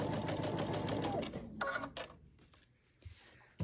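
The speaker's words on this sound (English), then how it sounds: "sew down that line until all of my triangles right here are sewn on both sides" A sewing machine stitches quilt block triangles in a steady, rapid, loud run that slows and breaks off into short bursts and quiet handling noises near the end.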